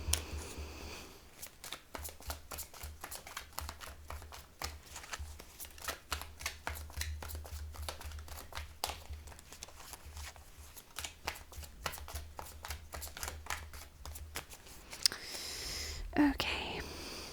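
Tarot deck shuffled at length, a dense, steady run of rapid papery riffles and slaps lasting well over a dozen seconds, close and even, with a brief pause and a last few handling sounds near the end.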